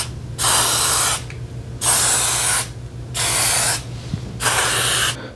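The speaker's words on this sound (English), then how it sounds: "I'm just gonna spray a little bit of white lithium grease right here" White lithium grease sprayed from an aerosol can onto garage door parts, heard as four close, loud bursts of hissing spray, each lasting about a second, separated by short pauses.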